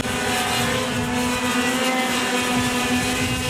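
Go-kart engines buzzing and droning steadily at Monarto during an Australian Kart Championships round, a high whine sustained without talk.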